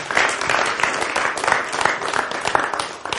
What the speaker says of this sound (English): Maybe round of applause